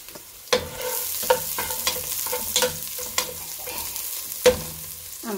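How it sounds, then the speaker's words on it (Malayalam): Onion fries in a pan with curry leaves, a piece of cinnamon and black cardamom for Thalassery fish biryani. A loud, steady sizzle runs throughout, broken by repeated spatula scrapes and knocks against the pan. "സവാള ഇട്ട് കൊടുക്കുക. ലേശം സവാള ഇട്ട് കൊടുത്താൽ മതി."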